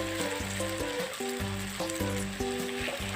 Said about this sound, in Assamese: এনেদৰে কিছু সময় ভাজি থাকিলোঁ পথাৰ মাংসৰ নিচিনা